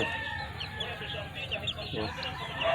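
Kelso breed rooster crossed with sweater stock crowing and clucking nearby in a farmyard, short and fairly loud, with faint background noise.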